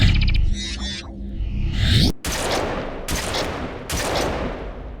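A shotgun fires in Halo: The Master Chief Collection, a few loud punchy blasts each followed by a short decaying tail, after brief game sounds at the start.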